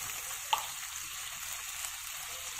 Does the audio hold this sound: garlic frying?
yes